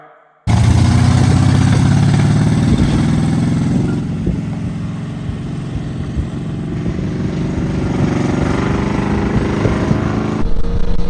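Carburetted off-road vehicle engine just recovered and fired up, running loud and close with a steady rough idle that dips briefly then rises again, with no voices over it.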